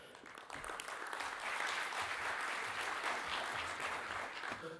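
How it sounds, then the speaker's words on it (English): An audience at a lightning-talks event bursts into a warm round of applause, a steady wash of clapping that swells after a brief quiet start and holds until the end. "Can we get a warm round of applause?"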